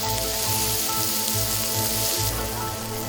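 Korean hanwoo beef sizzles on a restaurant grill, a dense, continuous crackling hiss that stays loud and even throughout, with no voices.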